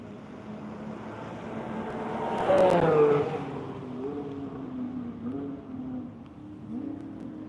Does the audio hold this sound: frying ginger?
no